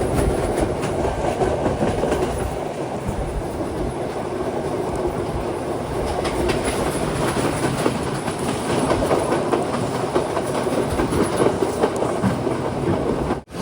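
A train on the Galle to Colombo coastal railway in Sri Lanka, heard from inside a second-class carriage: a steady, loud rumble of the wagons with clickety-clack from the wheels, and no voices.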